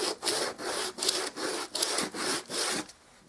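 Hand sanding along the edge of a bare wood baseboard, about six rhythmic back-and-forth strokes, close and loud, then quiet.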